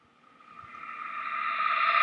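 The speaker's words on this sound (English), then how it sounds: "that's how you would do a cool little reverb tail effect" A reverse reverb tail made from a sample in Ableton Live 9, a smeared tone that swells steadily from near silence to a loud peak before cutting off abruptly.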